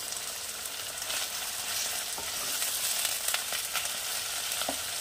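Small pieces of boneless chicken fry with ginger and garlic paste for a chicken tehari. A steady, fairly quiet sizzle and hiss runs throughout, broken by a few light stirring scrapes, with no voices.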